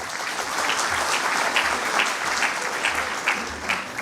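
Audience applause at a public event on health in Indore: a dense, even wash of many hands clapping at moderate distance, sustained for several seconds with no speech over it.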